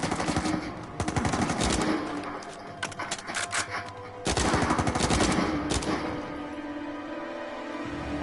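Automatic gunfire bursts from the video game Uncharted 4, loud rapid rattling volleys in two main clusters with a brief lull between, trailing into a quieter ambient tail; no speech.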